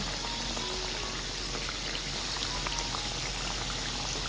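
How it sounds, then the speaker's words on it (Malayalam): Snack dough fries in hot oil, giving a steady, close bubbling and crackling sizzle with no talk over it. "ഇതങ്ങ് എണ്ണയിലേക്ക് ഇട്ട് കൊടുക്കാം കുറച്ച് കുറച്ച് വീതം ഇട്ട് നമുക്ക് ഫ്രൈ ചെയ്തിട്ടെടുക്കാം"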